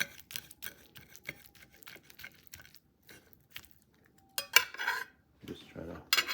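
Runny eggs stirred with a metal utensil against a dish or pan: a series of close, light clinks and scrapes with brief pauses, a louder busier burst of scraping in the second half.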